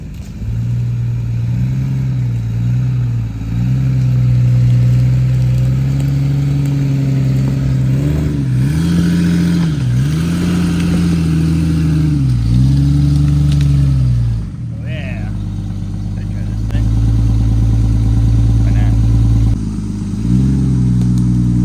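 A Jeep Grand Cherokee ZJ engine labors up a 90-degree rock ledge off-road, droning loud and close with repeated revs rising and falling, plus clatter as the vehicle climbs.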